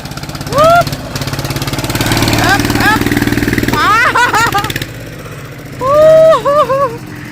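A farm tractor engine chugs steadily nearby with a rhythmic putter, while voices call out over it in Thai in short shouted bursts.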